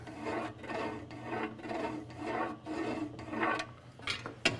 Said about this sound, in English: marking the center line of the motor